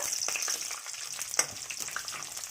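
Cumin seeds, bay leaf and cinnamon stick frying in hot oil for a mushroom curry, a steady fine sizzle with a sharp crackle partway through, close and fairly quiet, no talking.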